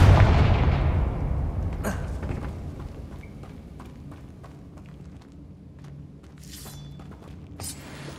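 A Confringo blasting spell explodes in Hogwarts Legacy with a loud, close boom at the start that decays into a long low rumble, followed by scattered small clicks and thuds.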